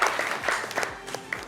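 A studio audience at a French-language television talk show gives a brief burst of applause, with irregular claps that fade within a second and a half.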